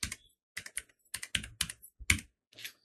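Computer keyboard keys tapped in short irregular clusters while a word is typed, crisp close clicks with small gaps between groups.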